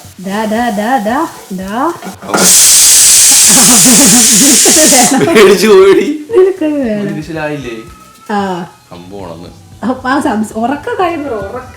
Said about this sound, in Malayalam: നമ്മളിതിനകത്തോട്ട് സവാള ആഡ് ചെയ്തു.